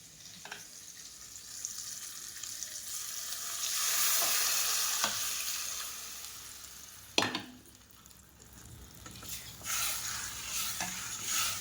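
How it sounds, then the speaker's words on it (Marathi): Cooked dal is poured into a hot tempering of tomato, garlic, cumin, mustard seed and curry leaves, setting off a loud, steady sizzle and frying hiss with occasional stirring scrapes, close up and without talk. "आता ही वरण टाकते फोडणीला डाळ शिजलेली"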